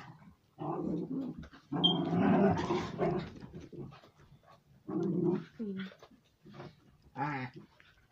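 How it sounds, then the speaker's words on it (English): A dog in a video game growls and whimpers in short bursts, several separate vocal outbursts with quiet gaps between them, fairly close and clear. "It's a dog so that's about it."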